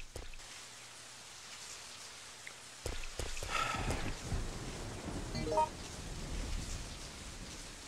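Rain falls in the Resident Evil 3 video game as a steady, soft hiss. A few dull thuds and knocks come through the wash partway through.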